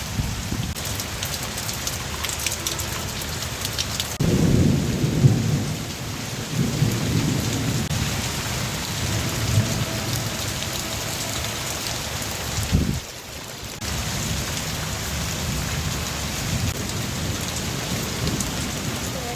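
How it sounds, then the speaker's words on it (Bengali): Heavy rain pours steadily outside during a thunderstorm, a continuous loud wash of drops with a deeper rumbling surge partway through and no talking. "আর বাহিরের ঝড় বৃষ্টি এখন কিছুটা কমে গেছে, এই যে দেখেন।"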